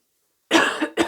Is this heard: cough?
yes